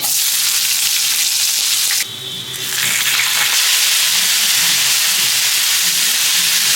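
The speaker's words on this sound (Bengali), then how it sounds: "তো গরম তেলে দিয়ে দেবো কুচনো পেঁয়াজ" Chopped onion dropped into hot oil, a loud steady frying hiss that dips briefly at the moment the onions go in, then swells back to a strong, continuous sizzle with faint stirring beneath.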